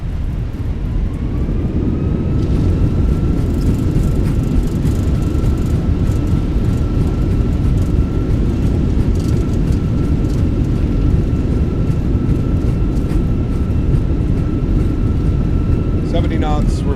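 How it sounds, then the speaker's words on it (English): Thrust reversers on a Fenix A320 in a flight simulator roar as the airliner decelerates after landing at Copenhagen, a loud broad rushing drone with a steady whine, easing near the end. "Goes down gently, reversers are out,"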